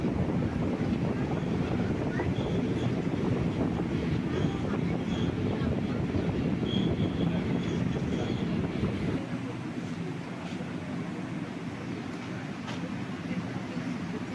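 A sleeper class train rolling into Chalakudy during heavy rain gives a continuous, loud rumble with wind rushing past the microphone, easing slightly in the last few seconds.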